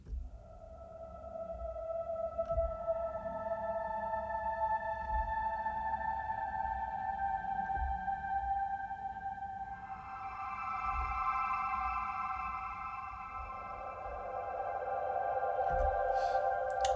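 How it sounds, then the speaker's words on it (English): A breathy Indian flute phrase from an Omnisphere synth sample plays sustained, sliding notes, soft and steady, moving to a higher phrase partway through. "that's actually a phrase playing a Indian flute"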